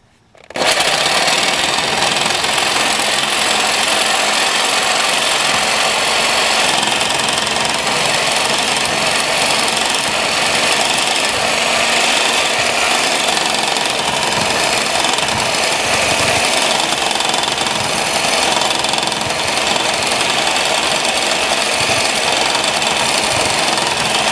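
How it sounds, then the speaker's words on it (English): A Sawzall reciprocating saw cuts through an exhaust pipe during a backyard repair, a loud harsh rasping buzz that starts abruptly and drives on without pause, close to the microphone. "if you hold this sucker wide open, you can actually see sparks coming off the Sawzall blade and you'll burn your blade out"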